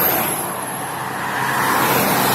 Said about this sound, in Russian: Большая машина едет